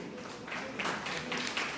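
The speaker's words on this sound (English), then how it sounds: "A big round of applause for all our participants" Applause from a college audience for science society participants, steady broadband clapping that swells after the first half second and carries on at moderate level to the end.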